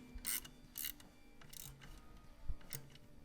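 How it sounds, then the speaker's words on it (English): A 10mm ratchet tightening a lead battery terminal on a snowmobile gives several quiet bursts of fast clicking, spaced apart with short pauses, close but faint, with no talk. "take your 10mm ratchet and snug down that terminal, making sure it's nice and snug"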